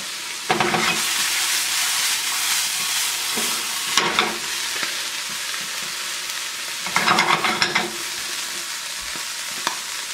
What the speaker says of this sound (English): Medium-high heat. Let the eggs set here.